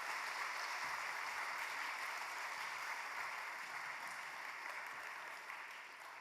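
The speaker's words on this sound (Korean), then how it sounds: "우리 선교사님 다시 한번 박수로 맞이하도록 하겠습니다" Steady applause from a church congregation at a Wednesday prayer meeting, welcoming a missionary to Lesotho. The clapping is even and continuous but fairly quiet and distant, with a slight drop toward the end.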